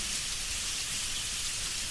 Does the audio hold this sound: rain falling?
yes